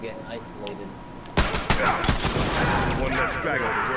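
Hunting rifle gunshots in a video game fire off in a loud burst of cracks and booms, followed by sustained gunfire noise and game action.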